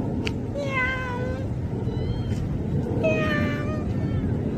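A stray street cat from a small family of strays gives two clear, drawn-out meows a couple of seconds apart, close by, over a low rumbling outdoor background.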